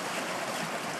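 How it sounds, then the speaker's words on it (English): Water rushing through the stepped pools of a fish ladder, a dense, continuous close-up roar of flowing water with no pauses. "There's different levels to the fish ladder, so each level has got more water in it"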